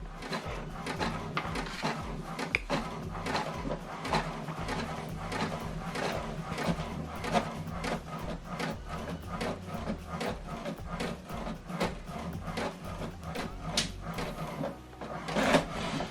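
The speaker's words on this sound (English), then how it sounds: "Okay, the second one is printing." Home printer printing a document sent from a phone, a steady run of rhythmic mechanical clicks and paper-feed whirs repeating close up for the whole stretch, with a louder clunk near the end.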